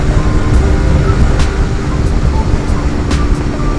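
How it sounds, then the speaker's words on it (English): Lifan KP Mini 150cc motorcycle ridden at wide open throttle on the road, a steady loud engine drone mixed with heavy wind rush, continuous and close throughout. "Let's push it a little bit. Now wide open throttle."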